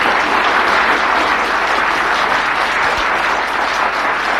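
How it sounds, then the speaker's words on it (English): Loud, sustained applause from a large crowd, steady and dense throughout without letting up. "Round of applause, please."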